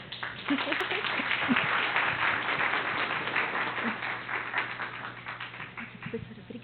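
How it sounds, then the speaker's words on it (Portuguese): Audience at a university mathematics and mathematics education week applauding to welcome a speaker, a steady sustained round of clapping with a few voices mixed in. "por favor, recebam com muitos aplausos"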